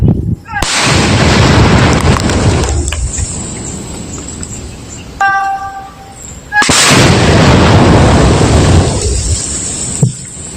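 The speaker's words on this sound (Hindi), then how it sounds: "2 आईडी थे जिन्हें डिफ्यूज किया गया और जोर का धमाका" Two loud, roaring blasts as defused IEDs are detonated, each followed by a long rumbling wash of debris noise, separated by a quieter stretch with faint high tones.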